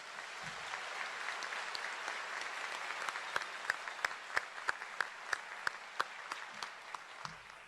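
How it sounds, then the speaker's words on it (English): Faint applause rises from a graduation ceremony audience, a soft even patter of many hands with a run of sharper, regularly spaced claps standing out near the front, quiet and slightly distant overall. "please, a round of applause for these guys"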